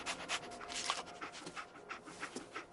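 Dogmeat, the dog companion in the Fallout video game, pants in quick, steady breaths up close, a rhythmic stream of short huffs with no talking.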